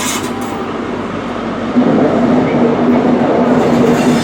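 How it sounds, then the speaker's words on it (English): A Cross Country train, a 43-set, at Bristol Temple Meads station gives a loud, close, steady rumble with a low engine drone and faint rail noise. "This is 1B50 running the delayed cross-country service to Plymouth."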